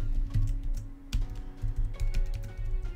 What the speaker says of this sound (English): I can type, I swear, I promise.